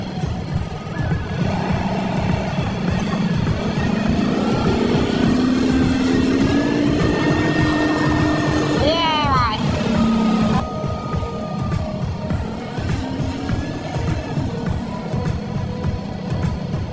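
An ATV engine runs loud and steady during a valley ride, a continuous rough drone with a rising and falling pitch and a brief surge in revs partway through.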